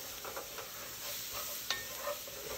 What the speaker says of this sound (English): Now saute those vegetables in that roux.